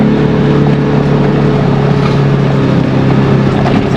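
A Polaris Ranger Northstar UTV fitted with a new clutch kit runs in low gear, its engine giving a loud, steady drone with a constant hum and no talking.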